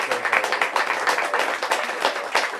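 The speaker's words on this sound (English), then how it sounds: "One more big round of applause." A live audience at a book event applauds in a dense, sustained round of clapping that holds steady and moderately loud throughout, with no voices heard over it.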